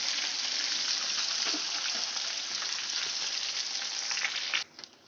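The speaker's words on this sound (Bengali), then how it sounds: "সবগুলো মাছ আমি ভেজে নিব।" Pieces of katla fish sizzle steadily in hot oil, a dense continuous frying hiss that holds for about five seconds before dropping off sharply near the end.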